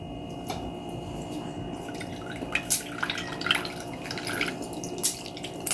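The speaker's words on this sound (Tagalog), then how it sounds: "Maglagay muna tayo ng toyo." Soy sauce poured by the ladle over sliced pork being seasoned for a Visayan-style pork dish, heard as faint, quiet dripping and trickling liquid with a few soft splashes against a low background hum.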